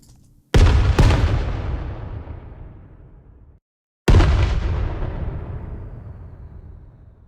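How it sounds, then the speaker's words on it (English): Fireworks recorded as sound design source: two loud sharp bursts in quick succession, a long crackling, decaying rumble, then a third heavy blast with another long fading tail. "And some fireworks."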